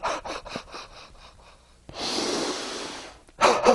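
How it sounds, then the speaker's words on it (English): A person takes one deep breath in, then pushes out a quick burst of rapid breaths, loud and close, with no talking. "It's a deep breath in and then rapid breaths out."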